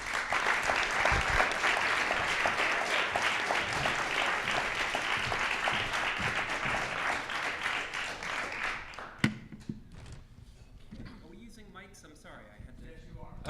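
Sustained audience applause welcoming Beatrice Fihn at a nuclear weapons policy event, a dense roomful of clapping that holds steady for about nine seconds, then thins into scattered claps and room murmur.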